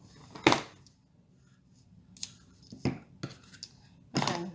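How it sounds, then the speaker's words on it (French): Scissors snip a small piece of ribbon during a watercolor stamping craft project. Four crisp, close cuts come alone at irregular moments, each separated by quiet pauses, with small handling clicks in between. "je vais juste en couper un petit bout."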